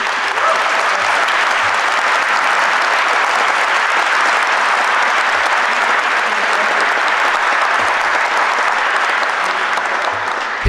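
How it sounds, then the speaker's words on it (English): Loud, dense, sustained applause from a lecture audience at a Dennis Prager talk fills the whole stretch without letting up. "Why did you applaud?"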